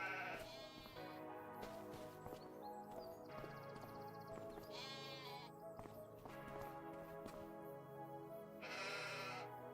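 Sheep bleat repeatedly in Farming Simulator 25 over a constant bed of game music and ambience. The cries are wavering and moderately close, with a louder bleat near the end.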